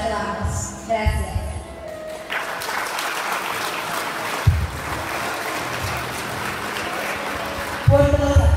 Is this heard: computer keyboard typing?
no